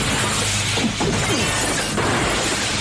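Glass divider shattering in a 1997 action movie, a loud crash of breaking glass with scattering shards, layered over dense action soundtrack noise.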